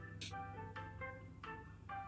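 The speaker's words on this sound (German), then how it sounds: "Ich höre mir die geile Fahrstuhlmucke an." Elevator music plays inside the survival video game Raft. It is a short, light, jingly electronic melody with evenly spaced chime-like notes over a steady low hum.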